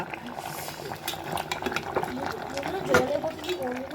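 A pot of biryani bubbles and simmers steadily close by, with faint clinks of utensils and a voice talking over the cooking.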